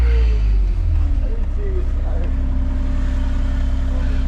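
A car rolls past on a quiet residential road, rumbling low and loud up close at first, then easing into a steady engine hum as it moves along.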